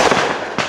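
Fireworks bursting across the street in a residential neighborhood, a crackling, sustained blast followed by a second sharp burst, heard from a short distance with no talk.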